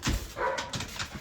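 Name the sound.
dog barking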